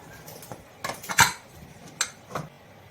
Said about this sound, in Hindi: अब कुकर का लिड खोलेंगे।